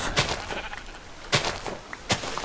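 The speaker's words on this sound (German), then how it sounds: "kleines Schaf, ne?" Three short sheep bleats from Minecraft, spaced about a second apart, fairly close and clear over a faint low background with no talking.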